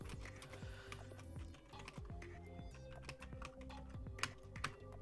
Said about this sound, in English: I don't know if you guys can hear the clicky clack of my keyboard.